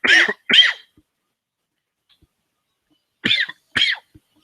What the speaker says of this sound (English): Didn't mean to cough on you all